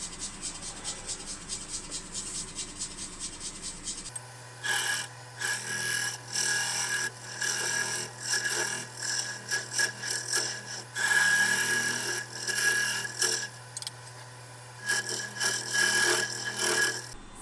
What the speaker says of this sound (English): I'm going to be using my hollowing tool on my shoulder, looking into the piece.